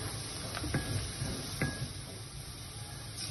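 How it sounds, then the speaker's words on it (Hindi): Onions frying golden with cumin in a pan, a soft, steady sizzle underneath a few light metallic clinks from stirring, with no one talking. "प्याज को हम थोड़ी देर तक और मजीद फ्राई करेंगे"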